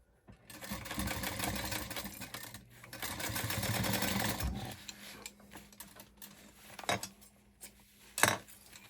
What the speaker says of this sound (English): So we'll sew this at a 1/4 inch seam allowance.